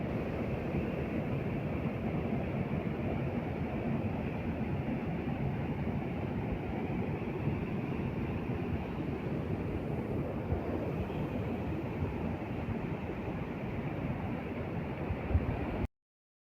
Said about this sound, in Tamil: இந்த மாதிரி குட்டி குட்டியாக தண்ணி விழுற மாதிரி இடம்லாம் இருக்குது